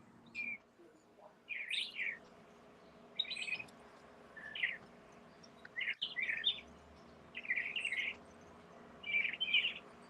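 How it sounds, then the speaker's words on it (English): Several birds chirp outdoors on a city street, short bright bursts of tweets repeating every second or so over a faint background hum. "Even the birds disagree."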